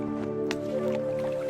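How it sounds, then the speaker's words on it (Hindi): Clay pots being lowered into water give soft wet drips and squishy splashes over a steady low hum, a few scattered liquid sounds close by with no speech. "अब आप इन दोनों घड़ों को पानी में डाल दीजिए।"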